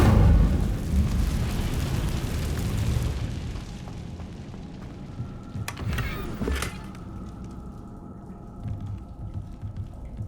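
An Incendio fire spell bursts out in Hogwarts Legacy with a loud, roaring blast that fades over a few seconds. A couple of sharp pops follow, then a quieter ambient hum.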